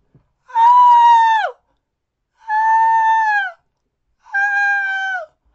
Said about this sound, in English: So let's play that woman's scream sound effect.